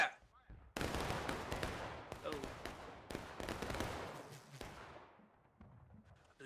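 Musket volley fired by a line of soldiers in the War of Rights Civil War game, set at an Antietam reenactment: a loud, ragged crackle of many overlapping shots bursts out and rolls on for several seconds before thinning to scattered reports.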